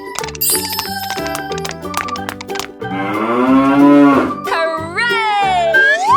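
A cartoon cow in a 3D animal slide video game gives a long, loud moo over bouncy game music and chiming sound effects.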